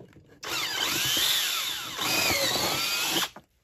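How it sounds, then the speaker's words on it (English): A power drill whines loudly as the bit spins into the wooden deck of a 7.5-inch gauge railroad flat car, running steadily for about three seconds with a slight dip in pitch midway. "Hopefully not stab the deck with the spinning drill bit."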